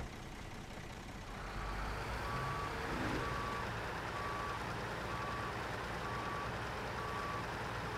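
Truck in the SnowRunner video game backing up with a steady series of evenly spaced reversing beeps over a constant engine rumble, alone and fairly loud throughout.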